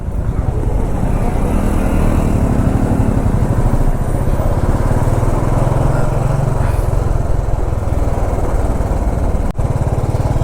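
Heavy jammed traffic on a road in India, recorded from a moving motorcycle, gives a steady close engine drone and road rumble that runs without a break and without talk.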